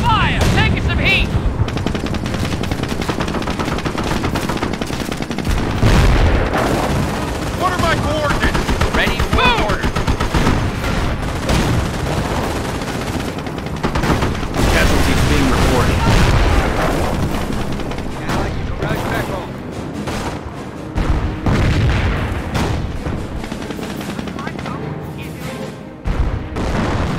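Gunfire and artillery explosions in the World War II strategy game Company of Heroes, set during the Normandy invasion, with dense, loud machine-gun bursts and booming blasts continuing throughout and voices occasionally heard in the mix.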